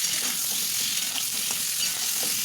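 Cut pointed gourd (potol) frying lightly in oil, a dense, steady hiss of sizzling close up, continuous and even throughout with only faint movement beneath it and no talking.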